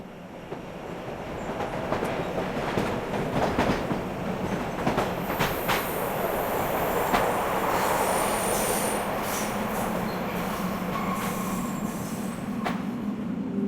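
A train rolls along rails in the Art of Murder video game, a steady close rumble with clattering wheels and occasional high squeals, continuous for the whole stretch with no voices.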